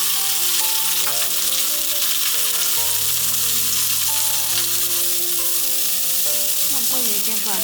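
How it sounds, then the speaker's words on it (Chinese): Vegetables are stir-fried in leftover salmon oil in a flat pan, with a loud, continuous sizzle and the scrape of tossing running throughout over background music. "利用锅中剩下的鱼油快炒蔬菜"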